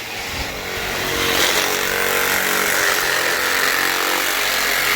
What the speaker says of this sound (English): You'd actually think that a Sawzall blade would be more capable than that.